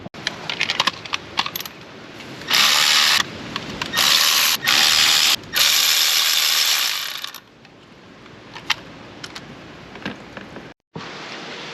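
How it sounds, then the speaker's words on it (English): An electric ratchet removing spark plugs from an MK7 Golf R engine, several loud whirring bursts close by, then clicks and clinks of metal parts being handled. "I'm gonna go ahead, throw my electric ratchet, and get these guys out of here."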